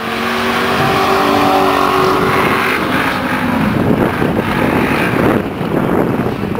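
A Dodge SRT car engine roars loudly and continuously at close range, a steady throaty rumble with a brief rising tone at the start and no talking.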